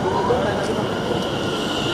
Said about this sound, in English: So we're now on board the train to Stratford.